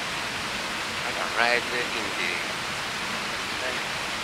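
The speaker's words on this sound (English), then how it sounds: "really small waterfall. Okay, the jump of the water is so tiny." A small natural waterfall with a drop of about two metres gives a steady, even rush of water throughout, with someone briefly speaking over it.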